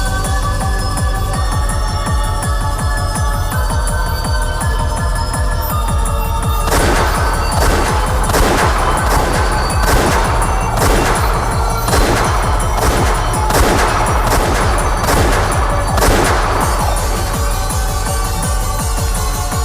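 Gunfire in the Umineko video game, a burst of repeated sharp shots firing in quick succession over a steady droning game soundtrack, loud and close.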